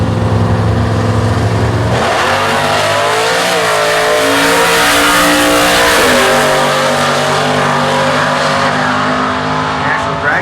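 A 2008 Mustang makes a solo drag-racing pass at the US Nationals Factory Stock event: a loud, close engine roar that climbs through revving gear changes and holds at full power, with a voice faintly over it.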